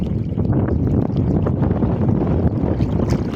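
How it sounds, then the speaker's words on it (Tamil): Strong, steady wind roars across the microphone with a low rumble at sea, and water sloshes faintly beneath, continuous and loud throughout. "காற்று இன்னைக்கு கொஞ்சம் ஜாஸ்தி,"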